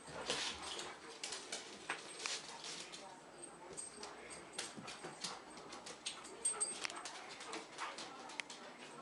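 A puppy whimpers and yelps in short, irregular bursts, fairly quiet, with people talking intermittently in the background.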